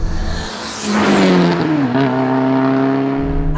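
A turbocharged 1974 BMW 2002 with a hot-rodded M3 powertrain revs up and accelerates hard as the boost kicks in, its pitch climbing then holding at a loud, droning roar, recorded close from inside or near the car.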